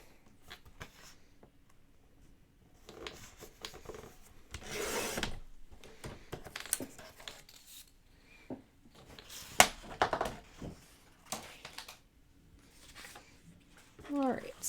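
Paper background sheet being trimmed to remove its branding strip, giving soft intermittent rubbing and rasping cuts close by with quiet pauses between strokes.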